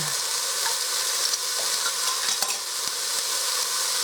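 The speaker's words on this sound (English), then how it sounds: "I'm going to saute them up a little bit" Carrots sizzle and crackle as they are sauteed in a soup pot for corned beef and cabbage soup, a steady close frying hiss with light stirring scrapes and no talk.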